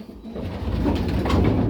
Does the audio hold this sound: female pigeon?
yes